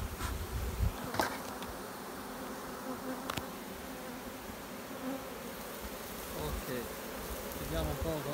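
A honey bee swarm hums and buzzes steadily near a hive during a swarm recovery, a dense continuous drone with a few brief louder passes close by and no talking.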